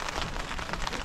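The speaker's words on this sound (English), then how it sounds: "We got rain." Rain pattering steadily on a tarp shelter outdoors, a dense, even hiss of drops close overhead with no talk.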